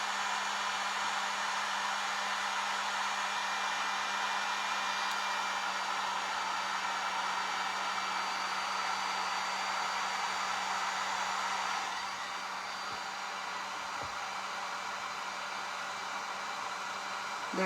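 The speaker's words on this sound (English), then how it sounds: "the baking soda will puff with the dryer on it" A hair dryer blows steadily on baking soda snow for a craft snowman, a constant close airy roar with a slight drop in level partway through and no voices.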